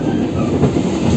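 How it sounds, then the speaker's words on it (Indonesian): The Minangkabau Express airport train rumbles as it slows into Padang station, a steady close clatter of wheels on rails with no voices. "Kita lihat ya, kita proses berhenti di stasiun Padang."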